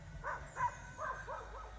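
Two dogs bark and yip faintly far off in a few short, spaced calls, heard outdoors on a hillside trail among goats in Italy.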